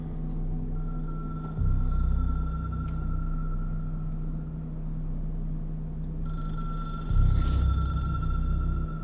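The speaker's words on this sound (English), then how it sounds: "Somebody answer the phone." A telephone rings in the video game Control in a repeated electronic trill over a constant low hum and rumble, with no one speaking.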